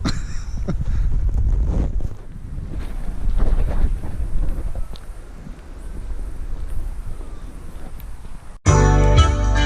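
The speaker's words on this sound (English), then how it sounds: "It's so windy." Gusty wind roars and buffets the microphone outdoors in the woods, steady and loud, before an abrupt burst of different noise at the very end.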